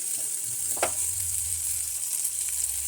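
Garlic paste and a bay leaf sizzle in hot oil, a loud, even, continuous frying hiss up close, with a single brief clink partway through and no voices.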